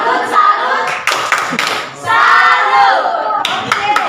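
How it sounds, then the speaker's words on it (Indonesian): A school class performs a rhythmic clapping chant, tepuk salut, in a classroom: steady group clapping in a set pattern with chanted voices over it, close and lively. "mari kita berikan tepuk salut untuk kelompok 4"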